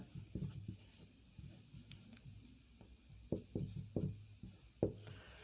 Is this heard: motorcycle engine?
no